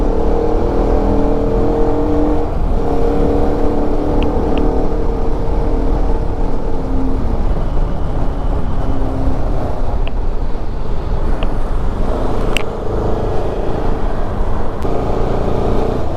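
Motorbike riding through Delhi traffic, with a loud, steady engine drone and heavy wind rush throughout, plus brief faint horn-like tones from surrounding vehicles.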